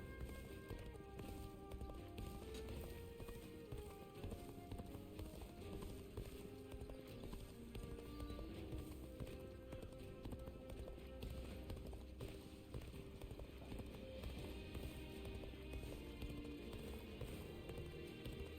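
Horse hooves clip-clop steadily in Dynasty Warriors: Origins, a continuous galloping rhythm that runs the whole time under dense battle music and ambience, with an occasional whinny.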